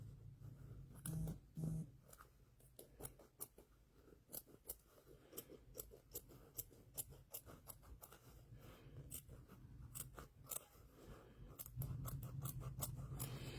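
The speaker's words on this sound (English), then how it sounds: "cuticle scissors are really good to do something like this with" Small cuticle scissors snip through fabric for quilt-block applique, a long run of quick crisp cuts, close and clear, with brief pauses and a low background hum.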